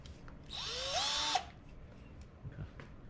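A small power drill spins up during an orthopedic prototype test, a single whining run of about a second with rising pitch, then cuts off abruptly, leaving quiet room tone.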